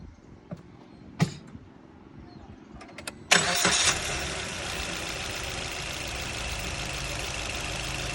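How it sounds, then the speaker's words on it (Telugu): A few clicks and a creak, then a Maruti Brezza car engine cranks and catches, settling into a steady, even idle that continues to the end. "వెహికల్ స్టార్ట్ చేసేటప్పుడు ఒకసారి ఇంజన్ నాయిస్ని కూడా మనం వినే ప్రయత్నం అయితే చేద్దాం"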